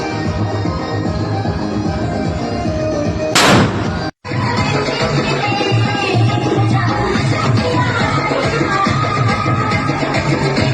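One firecracker goes off at a turmeric ceremony celebration, a single sharp loud burst heard over a constant dense roar of crowd noise and music, with a short dropout just after it.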